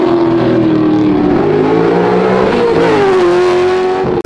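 A 1970 Chevrolet Corvette C3 Stingray widebody with a GM LS6 5.7-liter V8, ported heads and an upgraded cam, revs loud and close, its pitch climbing, dipping and rising again in a sustained roar that cuts off abruptly.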